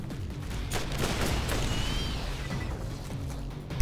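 Rapid gunfire and explosive bursts in the Borderlands video game, dense overlapping shots with a sharp crash at the end, no voices.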